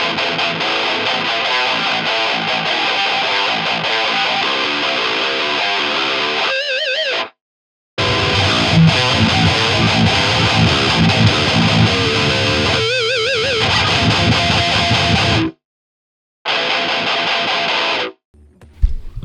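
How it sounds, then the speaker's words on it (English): Distorted guitar through the JST Toneforge Disruptor djent amp sim plays a lo-fi bridge part with a thin, filtered, wavering tone, loud and continuous, broken by two brief silent stops before ending sharply. "if you want to have like a little bridge part where it sounds kind of lo-fi"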